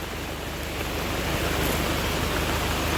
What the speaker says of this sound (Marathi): पाऊस बघा शेवटी आलाच चालू झालाच